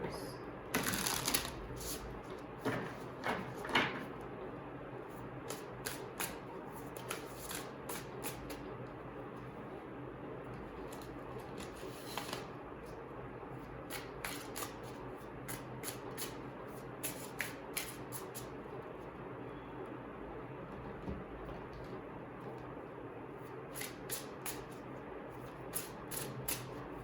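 A deck of cards is shuffled repeatedly in quick riffling bursts, crisp and close, with quiet background noise between.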